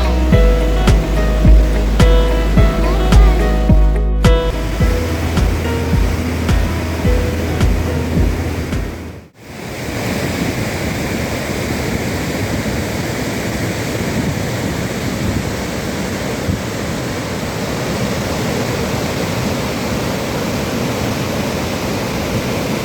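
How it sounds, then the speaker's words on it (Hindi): The Indus River flows among mountains in Ladakh as a loud, steady, broadband rush of water that fills the scene. Rhythmic music plays over the first few seconds and then gives way to the constant roar alone. "सिंधु नदी का बहुत ही बढ़िया नज़ारा देखने को मिलता है। उसकी आवाज़ को सुन सकते हैं, उस नदी के बहाव को महसूस कर सकते हैं।"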